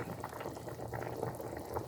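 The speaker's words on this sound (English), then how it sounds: "this is the meat sauce and it's boiling" Meat pepper soup with chicken, beef and fish bubbles in a pot, a soft, continuous simmering burble at close range with no voices.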